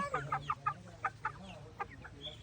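Chickens clucking in short, separate bursts while being fed, fairly close but at moderate volume against a quiet outdoor background, with no clear speech.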